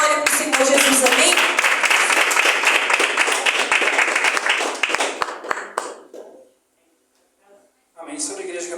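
A church congregation claps for a preacher in a dense, lively burst of applause lasting about six seconds, then fades to near silence before a voice resumes speaking.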